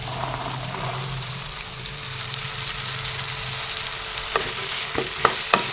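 Peas stirred into softened tomatoes in a frying pan give a continuous close sizzle, with a few sharp spatula scrapes toward the end and no voices.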